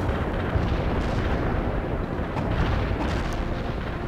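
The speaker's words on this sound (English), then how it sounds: "Fire a heat shell." Heavy, continuous rumbling barrage of artillery-like fire and explosions from a HEAT shell firing in the video game World in Conflict: Soviet Assault, loud and dense throughout with no pauses.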